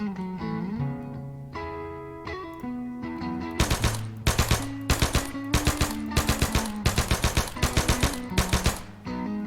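M3 grease gun firing in the video game Arma 3 S.O.G. Prairie Fire, loud close bursts of rapid automatic fire coming in several volleys over steady game music and ambience.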